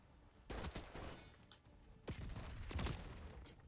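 Gunfire in the Call of Duty Black Ops 6 video game comes as two short bursts of rapid shots, fairly faint, with a brief mechanical click between them.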